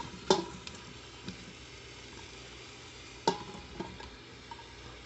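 Tomatoes, onions and garlic frying in a pan for birria, a quiet low sizzle broken by two distinct utensil knocks and a few softer scrapes, no voices.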